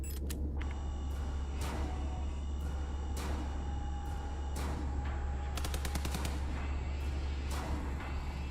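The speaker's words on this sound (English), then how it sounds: "did she just shoot that dude with the rifle and die?" Gunfire from a rifle in the horror video game Signalis, several sharp cracks spaced irregularly over a constant low droning ambience, with a brief rapid burst partway through.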